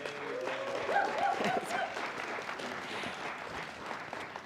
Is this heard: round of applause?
yes